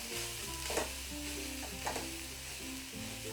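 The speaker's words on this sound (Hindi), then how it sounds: "अच्छी तरह से इसे भून लेते हैं, स्लो में ही भूनेंगे" Mawa (milk solids) roasted and stirred in a pan over a slow flame for gujiya filling, giving a steady soft sizzle with repeated scraping stir strokes, close and continuous, no talking.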